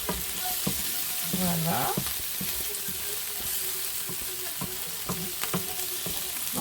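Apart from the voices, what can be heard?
vegetables sautéing in a pan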